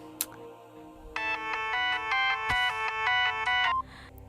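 A mobile phone ringtone sounds for an incoming call: a bright, melodic electronic tune repeating in quick steady notes for about two and a half seconds, fairly loud and close, with a sharp click partway through and no talking.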